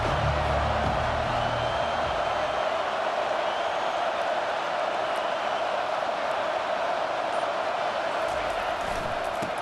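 A college football stadium crowd at a Florida versus Oklahoma State game roars as the defense faces a big third down, a continuous loud wash of cheering noise held steady throughout.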